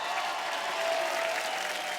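A studio audience on an Indian television comedy show claps steadily and densely, welcoming a singer and actor as a guest. The applause holds at an even level throughout, with no clear talk over it.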